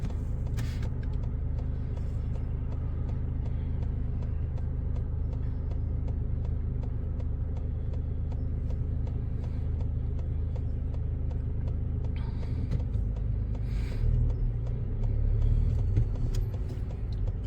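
A car cruises and turns right during a driving lesson, giving a steady low engine and road rumble with faint creaks, close and continuous, with no talk.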